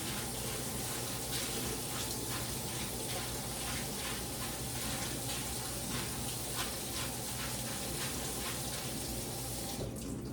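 Tap water runs steadily over dry beans being rinsed in a kitchen sink, a constant splashing hiss with faint rhythmic swirling, low in level and without talk until it cuts off at the very end.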